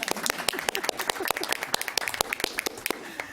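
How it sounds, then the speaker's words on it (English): A committee meeting audience breaks into applause, a dense patter of many hands clapping at moderate distance, steady for several seconds with no voices on top. "applause at the end"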